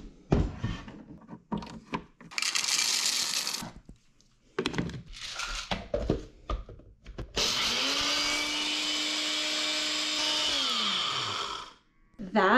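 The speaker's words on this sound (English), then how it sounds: "I want to see if it can grind our beans" Electric coffee grinder chewing through coffee beans while running off a portable power station for an off-grid solar setup, heard in several short bursts followed by a long steady whirring grind that winds down at the end, loud and close.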